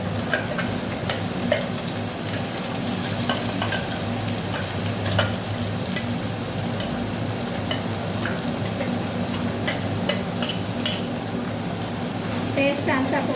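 A paste of onion, tomato and green chili frying in oil for a tiger prawn curry, a continuous crackling sizzle with scattered pops and spoon ticks, with a voice speaking over it.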